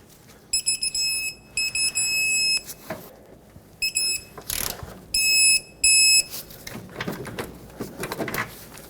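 Electronic torque wrench beeping while upper control arm bolts on a 2003-2012 Chevrolet Colorado 4x4 are tightened to spec: repeated bursts of steady, loud, shrill beeps, some sustained and some clipped short, with clanks and shop noise in between.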